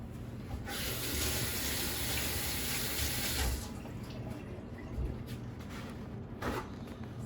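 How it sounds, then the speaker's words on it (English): Tap water runs steadily into a kitchen sink during hand washing while cooking stir-fry beef, a close, continuous broadband rush for about three and a half seconds before tapering to a softer trickle with faint clatter. "I'll wash my hands"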